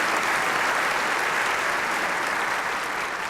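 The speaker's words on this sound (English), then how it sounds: "we can clap for that." A congregation claps warmly during a church talk, a dense, even roar of applause held steadily and easing slightly at the very end.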